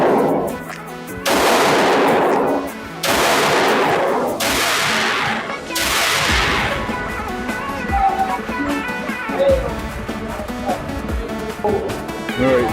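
A Springfield Hellcat Pro pistol with a True Precision barrel fires 124-grain rounds: four loud, sharp shots about a second or so apart, each ringing out, followed by quieter range noise.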